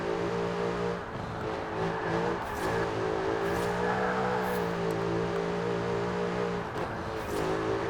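A Lexus RC F in Forza Horizon 4 revs hard, its engine note climbing and holding in steady harmonic surges with brief gear-change dips, loud and close throughout.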